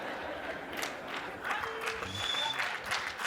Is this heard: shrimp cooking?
no